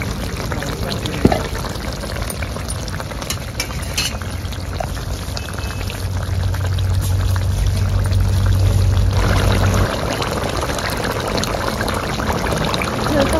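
Brinjal and koi fish curry bubbles uncovered in a pan, producing a continuous, fairly loud close hiss and simmering bubbling that swells in the middle, with occasional clinks.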